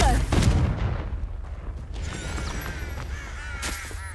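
A Confringo fire spell cast in the video game Hogwarts Legacy, a loud burst at the start trailing into crackling, whooshing magic effects and ambient game sound, no speech.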